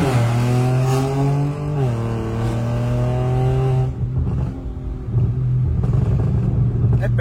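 A car engine revs with a steady droning note that climbs and dips, close and loud, with crackling pops and rumbles from the exhaust in the latter half and a voice speaking briefly.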